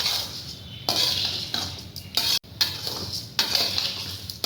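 Salt being stirred through puffed rice (bhaja mudhi) in a pan, with repeated scraping and clinking of a utensil against the metal, in short uneven bursts, close and fairly loud with no voices.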